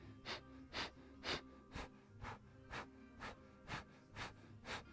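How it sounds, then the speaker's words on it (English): Breath of fire yoga breathing: about ten sharp, forceful exhales through the nose at a steady, even rhythm, close and quiet, with no talking. "Exhaling, that little forceful exhale. So it's a variation on breath of fire."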